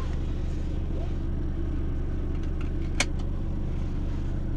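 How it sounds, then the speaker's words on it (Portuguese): A 2016 BMW 320i Sport 2.0 Stage 2 on M3 wheels drives along, a steady low engine rumble heard from inside the cabin, with a single sharp click partway through. "Sentir esse carro em movimento."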